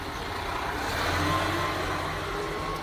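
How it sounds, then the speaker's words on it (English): A large bin truck squeezes past on a street, its engine rumble swelling as it draws near and then fading gently, moderately distant and with no voices. "I've got a large bin truck just squeezing past me there"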